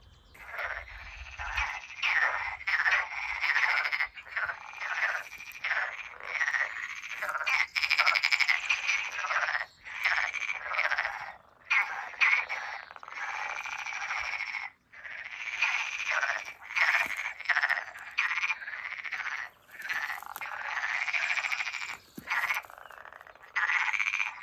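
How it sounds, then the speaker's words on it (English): Frogs croak in a dense, continuous chorus on a farmland homestead in central Portugal, the rapid calls swelling and pausing in overlapping bursts, fairly close and loud, with no talking. "Can you hear the frogs?"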